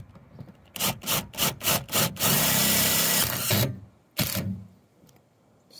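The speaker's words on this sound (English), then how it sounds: "These are self-drilling, so you just basically run them until they stop." A power drill drives self-drilling screws into an RV roof to mount a solar panel, whirring in several short bursts, then one longer sustained drive and a single brief final burst, close and loud.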